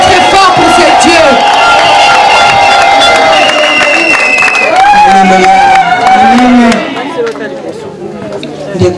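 A church congregation shouting and cheering loudly in praise, a dense roar of whoops and raised voices that eases toward the end.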